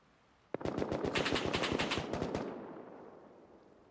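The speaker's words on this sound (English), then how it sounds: "It's a big shooting from Dwayne there in the distance." A sustained burst of automatic gunfire rattles off in rapid succession for about two seconds, then fades into a trailing echo, sounding distant in a Rust tournament match.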